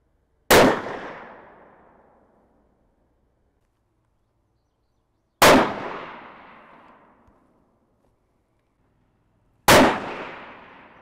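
Three single shots from a Thompson Center LRR rifle in .308 Winchester firing Hornady Match 168 grain ELD ammunition, each a sharp loud crack with a ringing decay, spaced several seconds apart with quiet between.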